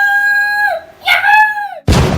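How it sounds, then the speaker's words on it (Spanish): A recorded hyena call plays loud and close: a long sustained wail that drops, then a rising, wavering howl, ending in an abrupt burst of harsh noise. "ahorita la hiena, a ver, escúchala"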